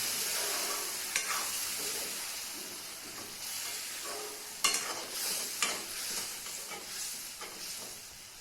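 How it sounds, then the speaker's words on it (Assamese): Close, steady sizzling of skunk vine paste frying in a pan for rohu fish curry, with a few sharper crackles and spatters breaking through the hiss. "পেষ্টটো দিয়াৰ পিছত অলপ দেৰি মই ভাজি ল'ম।"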